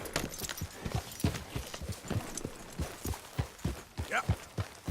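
Horse hooves clip-clop at a steady walking rhythm in Red Dead Redemption 2, close and distinct, with light ambient game sound behind them.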